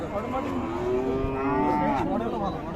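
A cow moos at a rural cattle market, one long, loud, drawn-out low call that fills the whole moment over a busy crowd murmur.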